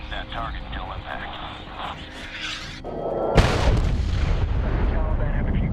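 Cannon fire and bomb blasts from the Medal of Honor video game, set in the Middle East: a sustained rumbling barrage breaks into a loud, sudden explosion that leaves a heavy, roaring wash.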